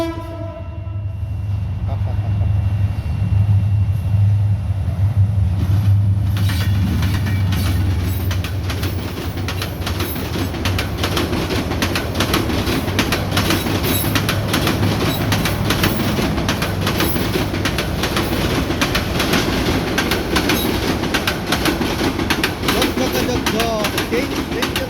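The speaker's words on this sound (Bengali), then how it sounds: "ট্রেন চলেছে, ট্রেনের বাড়ি কই।" A train rumbles past a roadside rider returning from a delivery by bicycle, a low rolling drone with a steady rail clatter and a horn blast near the start, loud and close throughout as a voice speaks over it.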